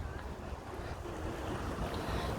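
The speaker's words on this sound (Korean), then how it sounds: "내 발 밑에 파도가 막 넘실거린다." Ocean waves surge and wash continuously beneath a pier or rocks at night during a fishing outing, a steady close rush of water mixed with wind buffeting the microphone.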